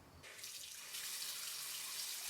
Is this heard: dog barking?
no